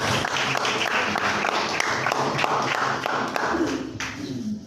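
Congregation clapping in praise during a missions worship service at an Assembly of God church, a loud sustained wash of hand claps with rhythmic accents that fades slightly near the end.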